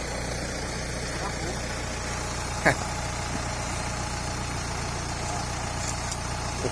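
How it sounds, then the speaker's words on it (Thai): A Kubota M8540 tractor used for hauling logs runs with a steady, low diesel drone and slight vibration, unchanging throughout, broken by one brief clunk partway through. "รถไถมันต้องรุ่นนี้ครับพี่น้อง M8540"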